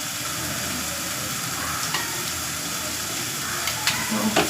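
Chole masala, chilli powder and coriander powder are stirred in a hot pan, a soft continuous sizzle with scraping spoon strokes now and then, close and moderately loud.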